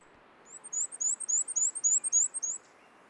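A small bird outdoors sings a quick series of about a dozen high, sharp chirping notes in an even rhythm, clear and fairly near over a quiet background hiss.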